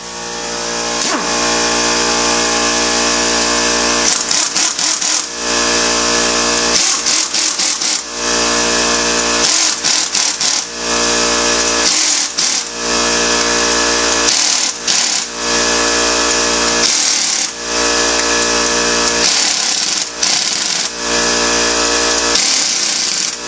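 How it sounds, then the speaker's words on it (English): A spring compressor squeezes the front coil spring of a Dodge Challenger SRT, driven in loud, close, repeated bursts of whirring power-tool rattle with short pauses between them, and no talking. "we're going to go ahead and put our new spring compressor back on, because we're going to need to collapse this spring"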